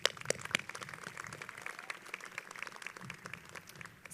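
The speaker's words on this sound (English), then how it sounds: "Let's give them a round of applause." At a high school graduation, an audience applauds the teachers, a fairly faint but steady patter of clapping with a few sharper individual claps near the start.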